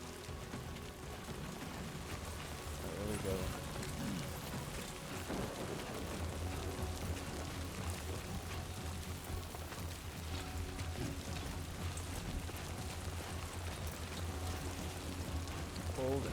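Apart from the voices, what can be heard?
rain in the video game Death Stranding 2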